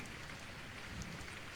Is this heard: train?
no